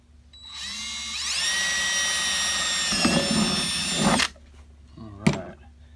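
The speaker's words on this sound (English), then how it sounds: "Drill the hole, the pilot hole for it." A power drill whirs up to a high steady whine for about three seconds, then bogs and grinds as it bites in drilling a pilot hole in a plastic tote bin, before stopping, followed by a brief rattle.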